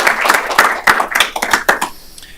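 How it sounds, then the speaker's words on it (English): An audience at a school board meeting gives a brief burst of clapping, a couple of seconds of scattered hand claps in a room that fade out quickly. "we'll just clap for Winnie"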